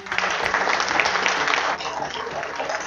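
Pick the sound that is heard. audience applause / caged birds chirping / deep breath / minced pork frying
audience applause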